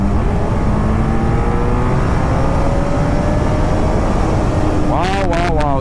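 A 2001 Suzuki Hayabusa GSX1300R motorcycle under hard acceleration in second gear, a loud steady engine roar with rising pitch and heavy wind noise throughout, ending in a quick burst of gear-change revving.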